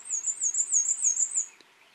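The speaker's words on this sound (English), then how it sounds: "This is a black-throated green warbler that's singing down there." A black-throated green warbler sings one high, wavering, buzzy phrase lasting about a second and a half in Texas Hill Country woodland, clear and alone, followed by near silence.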